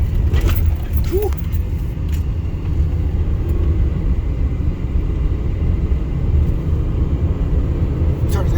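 A 2003 Pontiac Grand Am GT with 177,000 miles pulls away from inside the cabin, a steady low engine and road rumble with brief rattles, as people talk over it.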